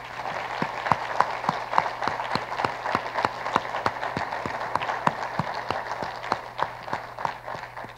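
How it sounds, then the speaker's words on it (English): Audience applause at a university State of the University address, greeting the institution's leadership team: steady, sustained clapping with sharp individual claps standing out, lasting the whole stretch without talk. "Please join me in giving these leaders a round of applause."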